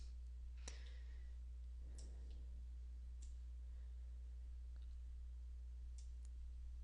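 A computer mouse clicks a few times during website work, giving sparse, faint, sharp clicks spaced apart over a steady low electrical hum, with no talking.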